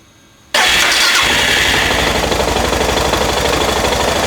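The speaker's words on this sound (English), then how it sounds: "start the bike up and leave it idling for a while" A Suzuki DR650 motorcycle engine fires up abruptly after a brief quiet moment, then settles into a loud, steady, close idle with a rapid, even thumping rhythm.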